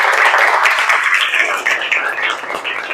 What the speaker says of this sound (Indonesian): Boleh tepuk tangan semuanya dong.